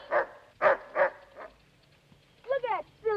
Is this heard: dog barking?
yes